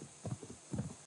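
Horse hooves clip-clop in the video game Assassin's Creed Valhalla, a short, faint run of soft thudding steps in an uneven two-beat pattern.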